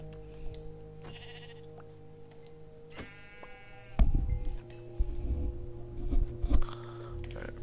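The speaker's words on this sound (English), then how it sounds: "Ooh, sheep." Sheep in the video game ATLAS bleating, a clear wavering bleat in the middle followed by scattered thumps and rustling game sounds over a low droning background hum.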